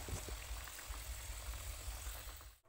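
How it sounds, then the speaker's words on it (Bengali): Puri khaja pastries fry in hot oil over a low gas flame, a quiet, even bubbling sizzle with a faint low rumble throughout and no talking. "যে দেখুন আমাদের ভাজা পর্ব চলছে।"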